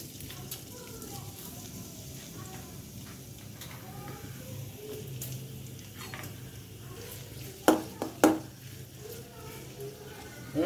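Crushed garlic and chopped onion fry in hot oil in a pan with a steady close sizzle, then a couple of sharp utensil knocks near the end.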